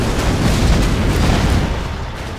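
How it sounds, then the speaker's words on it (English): A tank cannon firing in a video game, a loud booming blast with a rumbling, crackling decay that carries on for over two seconds and fills the whole clip. "Aim cannon and fire."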